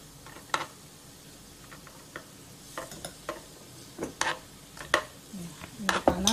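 Aglio olio ingredients tipped into hot oil, with soft sizzling and a series of sharp utensil clinks and scrapes against the pan, close and intermittent, with brief vocal sounds near the end.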